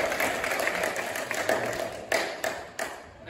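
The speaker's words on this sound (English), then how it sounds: "I just want to give the boys a round of applause" A church congregation at First Southern Baptist claps for a group of youth boys, a moderate patter of hand claps with a few louder individual claps standing out near the end.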